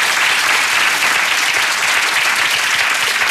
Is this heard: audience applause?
yes